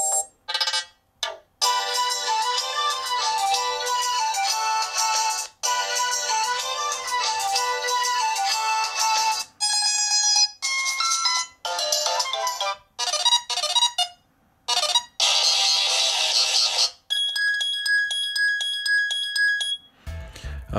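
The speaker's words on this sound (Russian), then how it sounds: "посмотрим, какой там рингтон есть у нас" Ringtone melody playing from an Oukitel K6 smartphone speaker, bright repeated electronic phrases with short pauses between sections, loud and close, with a different chime pattern near the end.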